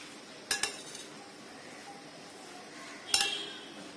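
Potato fries being mixed with cornflour and red chili powder in a bowl, heard as a few sharp clinks of a utensil against the bowl, two near the start and another later, over quiet background.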